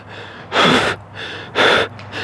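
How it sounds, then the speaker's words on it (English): Two loud, close breaths are drawn through a paintball mask, each a rushing, hissing inhale and exhale lasting about half a second, separated by a quieter pause. "That's me breathing twice."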